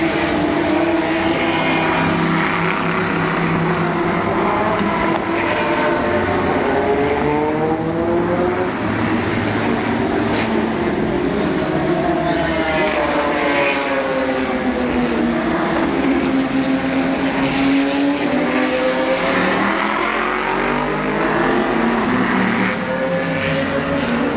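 Race cars roar past at the start of the 2013 24 Hours of Le Mans, a continuous loud blur of engines with rising and falling pitch sweeps as cars pass one after another, no voices.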